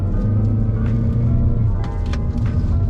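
A Honda Civic RS accelerating on the Sepang circuit, a loud, steady engine drone and road rumble close by, building without a break, with a few faint clicks on top.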